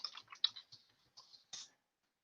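Clicking keys on a computer keyboard, a quick, faint burst of irregular taps with a short pause and a last heavier key press, heard alone without speech.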